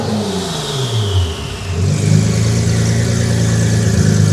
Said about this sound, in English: Seems like that's the highest it lets me rev it.